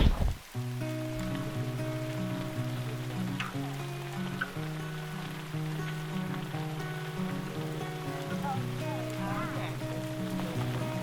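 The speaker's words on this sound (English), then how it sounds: "It's a wet, nasty morning today. And I get to fold the tent down in the rain." Rain patters on a tent on a wet morning along a remote northern road, a soft steady hiss of drops heard close against fabric, with a low hum and some brief noises at the start.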